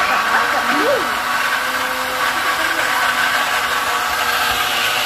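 A kitchen mixer grinder whirs steadily as it grinds spices, a continuous loud motor drone filling the whole stretch, with brief speech-like tones near the start.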